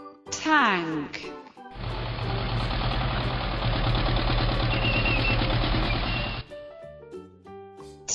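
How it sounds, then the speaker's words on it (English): A military tank engine runs steadily for several seconds with a deep, heavy rumble and rattling tracks, loud and close, after a brief spoken word and between other vehicle sounds. "tank,"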